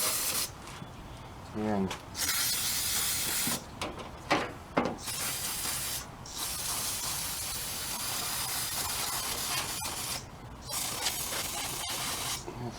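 Super Tech cleaner sprayed onto the carburetor of a Husqvarna YTH2454 riding mower, several short hissing bursts over a continuous background hiss, with a brief spoken word.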